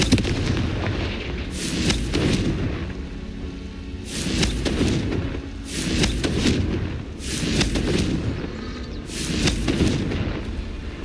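The Confringo fire blast spell from the Hogwarts Legacy video game fires in repeated booming explosive blasts roughly every one and a half seconds, loud and rumbling over a continuous roaring game background with no talking.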